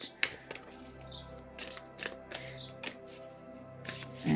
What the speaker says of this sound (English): Give it another little shuffle and then just get another message.